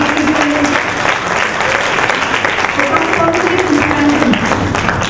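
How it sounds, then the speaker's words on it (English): Sustained audience applause after an inaugural address at PRAXIS 2012, a dense, even wash of clapping from a large room that holds steady for several seconds. "May we have a round of applause for Professor Dr."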